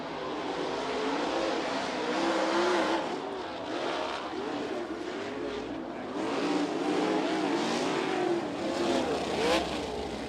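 USAC sprint cars idle and rev in a pack behind a Toyota Racing Development pace truck at Ocala Speedway, a steady loud engine drone with rising and falling revs throughout.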